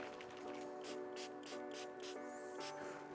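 Several short bursts of aerosol waterproofing spray hiss out in quick succession onto hiking boots, close by, over a steady mechanical hum.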